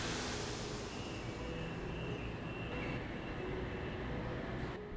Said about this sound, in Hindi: और फिर उसकी वो ट्रेन चलने लगी।